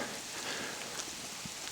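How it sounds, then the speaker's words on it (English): Hail falling under a clear sky on Mount Kearsarge, New Hampshire, a steady dense hiss of pattering ice with a few sharper close ticks, outdoors and without voices. "Look at this, completely blue sky and hail falling."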